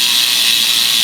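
A Specialized Allez Sprint Comp bicycle wheel spins freely on a stand during a post-ride clean, its freehub ratchet buzzing in a dense, steady whir of rapid clicks, close and loud without any voice.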